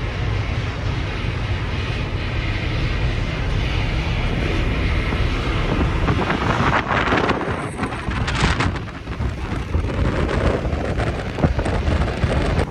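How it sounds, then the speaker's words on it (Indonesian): Strong wind roars continuously across the deck of a passenger ship sailing from Surabaya to Makassar, a loud, broad rushing blast with gusty swells throughout and no speech. "Sini anginnya kenceng banget"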